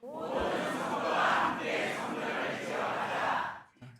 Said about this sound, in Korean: 자, 두 번째 함성.